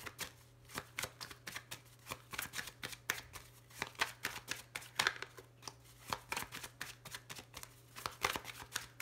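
Lenormand fortune-telling cards are shuffled by hand in a quiet room, a close run of soft, rapid riffling flicks and slaps repeating in quick bursts, with no talking.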